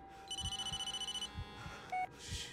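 An incoming call rings on a phone in Blair Witch, a bright electronic ringtone of quick repeated pulses followed by a short beep, over low rhythmic thumping.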